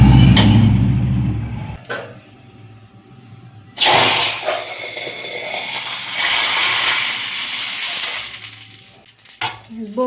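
Spices hit hot oil for a tempering for kadhi in a home kitchen, bursting into a loud, abrupt sizzling hiss that swells again and then fades, with clatters and handling noises before and after.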